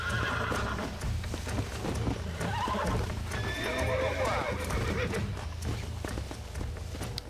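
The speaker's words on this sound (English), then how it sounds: "John trying to break this horse out here by himself around all these cacti" A horse being broken in Red Dead Redemption, set among desert cacti, whinnies and neighs over steady clopping hooves and loud ongoing game sounds, with someone talking throughout.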